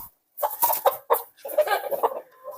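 Chickens on a small home farm give short, close clucks in quick, uneven bursts, with a brief pause after the first one.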